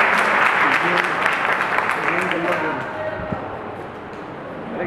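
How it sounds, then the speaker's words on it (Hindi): An audience at a Jain temple bhajan evening in Roorkee breaks into applause to welcome a speaker. The clapping is dense at first, then thins and fades, while voices murmur underneath. "सब ताली बजाकर एक बार उनका स्वागत करें।"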